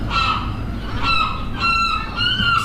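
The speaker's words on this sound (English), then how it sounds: "Seagull. Oh yeah, definitely." A seagull calls in a series of about four harsh, honking cries in quick succession, loud and close, with a steady background rumble underneath.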